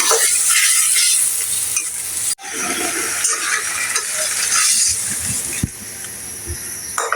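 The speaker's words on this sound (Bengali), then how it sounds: "গোলমরিচের গুঁড়া অল্প করে দিয়ে দেবো ভালো করে কষিয়ে নেব" Chicken curry with black pepper powder stir-fried in a pan gives a steady loud sizzle with scraping and clattering of the spatula, close up and continuous, with a brief break partway through.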